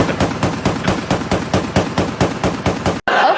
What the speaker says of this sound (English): Drum mag on a 50 cal.